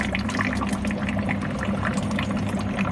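Water trickles and splashes steadily from a pump overflow, close by and continuous, with a low hum of running equipment underneath.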